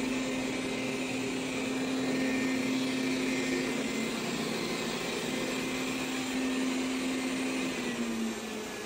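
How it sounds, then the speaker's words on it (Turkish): A Xiaomi Vacuum Mop Pro 2 Plus robot vacuum runs in turbo mode on carpet, giving a loud, steady, close motor whine with airy suction noise that holds without a break and eases slightly at the very end. "Şu an halı üzerinde olduğunu anladığı için turbo moda geçti."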